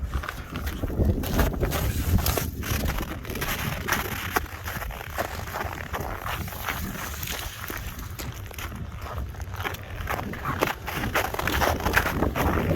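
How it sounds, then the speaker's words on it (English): Cold wind blowing steadily outdoors on an icy farm, a constant rough rush and buffeting against the microphone across the whole stretch, with faint handling noises and no talk. "That wind is cold."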